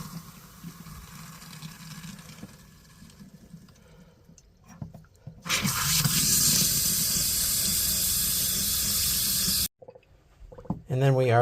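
A hot water tap in an RV gushes in a loud, steady hissing rush as antifreeze is flushed, following quieter tapping and talk, then cuts off abruptly with a brief gurgle after.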